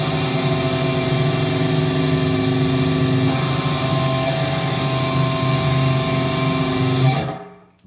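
A distorted electric guitar holds a heavy power chord, then shifts so the fifth becomes a fourth, sustaining loudly on its own before cutting off at the end.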